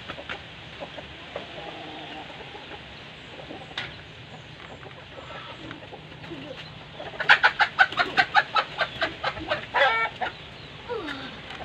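Chickens cluck in a quick burst of sharp repeated calls, preceded by quieter scattered clucks and low background noise.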